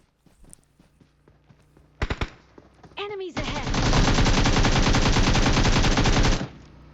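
Automatic gunfire in the BGMI mobile battle royale game: a few scattered shots and footsteps give way to a long, loud, continuous burst of rapid fire lasting several seconds before cutting off.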